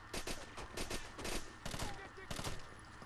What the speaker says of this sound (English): there's a heavy machine gun over there. Trying to plow us.